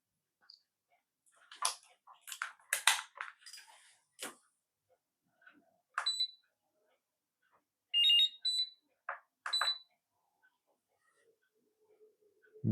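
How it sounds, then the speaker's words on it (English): A battery charger sounds its full-charge alarm after charging a faulty KRATAX AA lithium-ion battery, giving a few short, sharp electronic beeps in separate bursts against quiet, with faint handling noises between them. "Well, the charger alarm has just gone off to say that it's fully charged."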